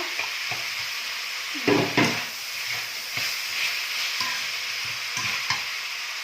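Onion and tomato fry in a hot pan, a steady sizzle and hiss running throughout, with a few louder stirring scrapes and clatters near the start and scattered through. No one speaks.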